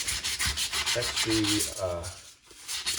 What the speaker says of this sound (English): I'm just sanding off the extra pieces